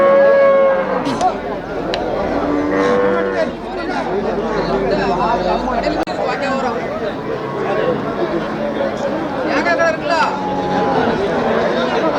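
Kangayam cattle low and moo repeatedly at a busy livestock market, close and loud, with a constant babble of people talking around them.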